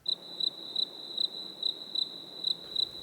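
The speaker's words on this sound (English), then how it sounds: "Crickets." Steady, regular cricket chirps repeat in even bursts about every third of a second, a thin high trill sitting over a faint, quiet background hush with nothing else around.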